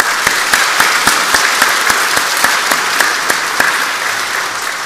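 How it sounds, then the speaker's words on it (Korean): Steady, loud applause from a church congregation for its teachers, rhythmic clapping sustained for the whole stretch without voices. "여러분 이 시간 큰 박수와 격려를 부탁드립니다"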